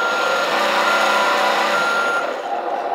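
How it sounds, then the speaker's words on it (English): A continuous electronic reversing alarm on a 1/12-scale P801 RC military 8x8 truck with metal chassis beeps loudly and closely alongside a buzzing motor hum, with no pauses over a few seconds. "Backward alarm."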